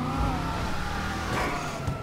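Dodge Hellcat engine in GTA Online, a steady loud rumbling drone with sustained tonal harmonics, holding continuous throttle without clear revs or pauses.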